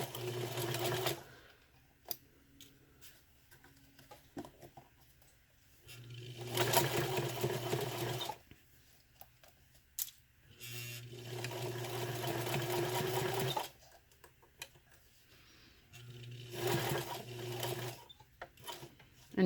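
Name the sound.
sewing machine stitching a zipper with zipper foot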